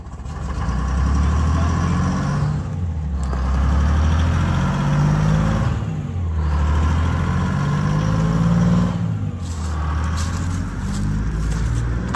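A smoky Detroit Diesel inline 6-71 six-cylinder engine runs after a cold start, a loud, close, rumbling diesel drone that swells and eases in several slow waves, with no speech over it.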